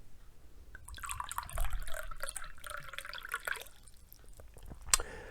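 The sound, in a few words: pouring water into a glass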